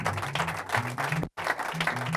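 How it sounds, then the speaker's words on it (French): A church congregation claps and cheers for Jesus in a short, dense burst of applause, loud and close, briefly cut off mid-clip before the clapping resumes. "Acclame très très fort Jésus."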